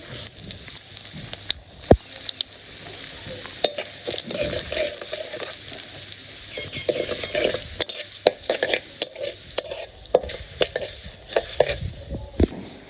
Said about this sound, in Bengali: জিরে দিয়ে দিই সাথে রাঁধুনি সব আছে মাসকলের ডাল আছে মাসকলের ডাল দিয়ে দেই